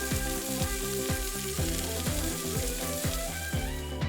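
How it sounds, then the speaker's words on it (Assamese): Black mustard seeds, turmeric and curry leaves sizzle in hot oil in a kadai, giving a continuous loud frying hiss broken by rapid, regular crackles and pops, with no voices. "এয়া আধা চামুচমান কলা সৰিয়হ গুটি তেলখিনিত দি ল'লোঁ"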